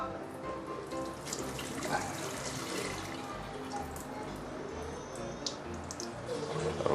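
Cloudy water from washing rice is poured away into a home kitchen sink, giving a faint, steady splashing and trickling that lasts the whole stretch.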